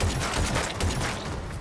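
Tactical pistol fire in The Callisto Protocol, a rapid string of loud gunshots with a rattling mechanical edge, shots coming in quick succession under a dense mix of game sound.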